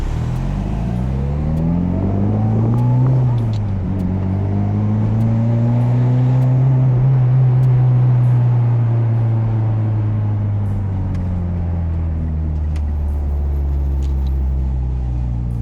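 A big-turbo 2013 Mitsubishi Lancer Evolution X driving on city roads, its engine droning steadily and loudly up close with rising and falling pitch as it accelerates and shifts, no talk over it.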